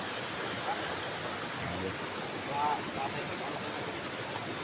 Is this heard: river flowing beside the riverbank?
yes